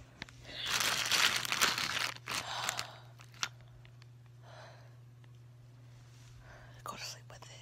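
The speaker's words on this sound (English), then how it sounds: "Before you eat all the ice, you're gonna want to put this bag of ice" A plastic bag of ice crinkles and rustles as it is handled and pressed onto a pregnant belly, loud close crackling bursts followed by softer scattered rustles, with quiet whispering and a low steady hum.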